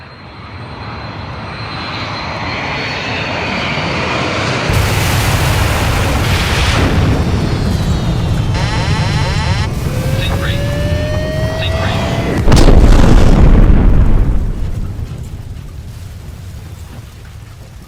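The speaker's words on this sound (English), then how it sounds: "the aircraft's impact with the telecommunications tower will be recorded on the CVR as Iberia 610 is lost" Iberia 610 airliner striking a telecommunications tower, captured by the cockpit voice recorder: a steady engine and wind roar builds, then a loud crunching impact burst before the recording cuts out.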